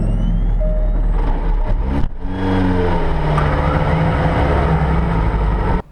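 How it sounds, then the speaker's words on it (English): The engine of a Jaguar C-X75 fires up with a loud, close roar. Its pitch swings through a couple of rising and falling revs with a brief dip in between, then cuts off sharply at the end. "we hear the engine roar into life for the first time"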